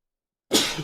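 A single sudden sneeze bursts out after half a second of silence, loud and close, with a short breathy tail.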